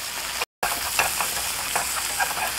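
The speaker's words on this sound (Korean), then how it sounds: "베이컨 볶을 때 통후추도 같이 넣어서 잡내를 없애주겠습니다." Bacon and whole peppercorns frying in olive oil and butter give a steady, close sizzle with stirring, broken by one very brief gap of silence.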